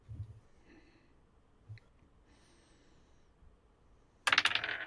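Dice tumbling on a desk in a short, bright rattling burst near the end, preceded by quiet room tone and a few faint taps.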